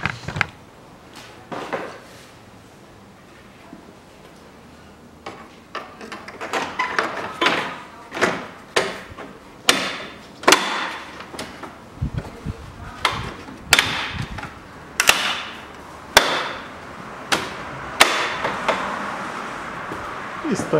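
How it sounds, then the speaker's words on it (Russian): Sharp plastic clicks and knocks as the grille goes back onto a Chevrolet TrailBlazer during a radiator and thermostat replacement, close and irregular at first, then quicker and denser toward the end. "Устанавливаю на место решетку."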